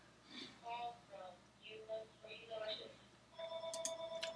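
A telephone rings with repeated bright electronic tones near the end, following stretches of a person talking in a casual home setting.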